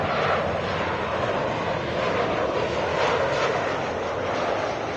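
A SkyWest airliner takes off from runway 24 left at LAX, its engines producing a steady, loud broadband roar that holds unbroken throughout with no talk over it.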